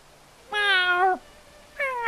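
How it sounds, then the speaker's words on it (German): A house cat in the medieval video game Bellwright gives two clear meows, the first long and drawn out and the second shorter after a brief pause, close and distinct over a quiet background. "Das ist eine Hauskatze."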